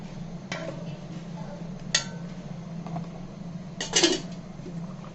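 Washed mangoes dropped into a cooking pot for a Noakhali-style sour mango dish, giving a few clinks and knocks against the pot over a steady low hum, with a louder clatter near the end.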